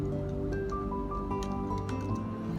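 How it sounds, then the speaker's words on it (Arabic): Water is poured into a powdered parrot feed mixture and stirred, giving soft wet squishing and dripping sounds close by over a steady background hum. "نزيده شوية ماي، لأن بعد دقيقة نفس البودر يتشرب الماء"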